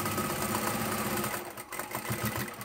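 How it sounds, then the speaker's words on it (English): A sewing machine double stitches heavy upholstery fabric on a reversible tote bag, giving a continuous mechanical whirr that briefly dips and then resumes in short bursts toward the end, close and without talk. "Even though I'm double stitching, I'll still reinforce that."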